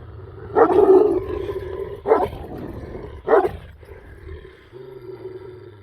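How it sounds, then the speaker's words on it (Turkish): A dog guarding a dead lamb gives three short, gruff bursts close to the microphone, rough growling barks separated by brief pauses over a low rumbling background. "Köpek bana da herliyor."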